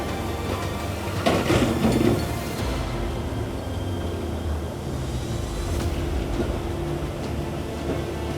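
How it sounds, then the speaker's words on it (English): An excavator grinds and clanks heavily over boulders in a creek, with a rumbling engine throughout and a louder crunching surge early on, no voices. "The last thing we need is to have the excavator stuck in the middle of this creek."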